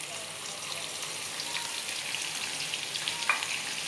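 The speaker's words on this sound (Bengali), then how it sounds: "এবার আমি এর মধ্যে কুচি করা পেঁয়াজগুলো দিয়ে দেবো।" Chopped onions drop into hot oil in a pan for Bengali chicken curry, producing a steady soft sizzle and light crackle with occasional small pops, close and moderately quiet, with no talking.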